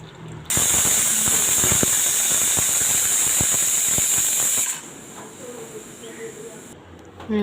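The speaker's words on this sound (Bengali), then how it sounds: "আমার ভাতের বলক চলে এসছে" A pot of rice comes to the boil on a stove and lets out a loud, bright steam hiss with scattered crackles and clicks. The hiss lasts about four seconds, then drops away to a quieter bubbling background.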